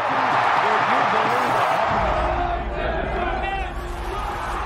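A large baseball stadium crowd in Oakland, over 54,000 strong, roars as a broad, continuous wash of cheering and babble that stays loud throughout, easing slightly toward the end.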